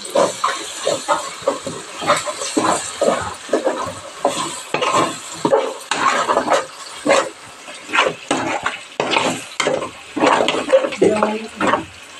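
Ginger paste added to a pan of simmering fish curry and stirred, producing bursts of hissing sizzle and scraping that rise and fall in a steady rhythm, close and fairly loud.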